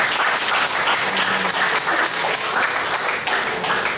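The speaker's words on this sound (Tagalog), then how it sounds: "Palakpak na tayo sa Panginoon." A church congregation breaks into sustained applause for the Lord, a loud, dense wash of many clapping hands filling the room without pause.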